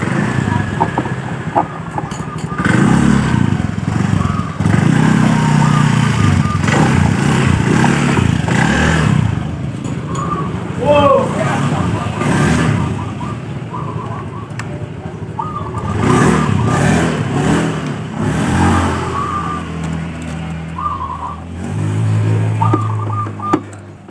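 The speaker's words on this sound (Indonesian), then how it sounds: "Motor kita coba nyalakan." A Yamaha Byson motorcycle with a starting fault, its starter fitted with a Supra bendix, has its engine started and revved. The loud, close engine drone rises and falls steadily for most of the stretch, with brief voices underneath.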